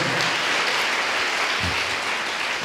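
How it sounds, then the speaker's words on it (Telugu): A church congregation claps loudly and steadily in a dense, continuous burst of applause, with a brief low thump partway through and no talking over it. "బహుబిగ్గరగా కొట్టాలి చప్పట్లు"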